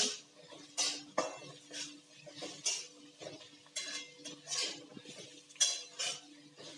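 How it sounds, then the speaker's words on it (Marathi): Spoon scraping and clinking in a pan while sautéing upma ingredients with tomato and curry leaves, a steady rhythm of repeated metallic strokes about every half second, close and fairly loud. "कढीपत्ताही टाकू छान असं परतून घेऊ"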